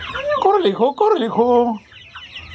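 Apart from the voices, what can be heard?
chickens clucking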